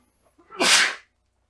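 A single short, breathy sneeze bursts out close by, rising sharply and cutting off within about half a second against an otherwise quiet background.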